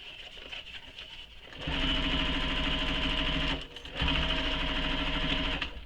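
A sewing machine stitches up the sides, across the top and down the other side of a fabric bag, its motor running in a steady loud whir in two long bursts separated by a brief pause.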